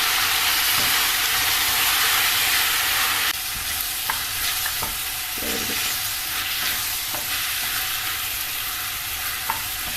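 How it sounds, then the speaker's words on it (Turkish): Potatoes and meat stirred as they fry in a pan for a stuffed potato dish, a steady close sizzle and hiss with scraping strokes of the spoon, with no talking. "Şimdi bunu güzelce karıştırıyorum."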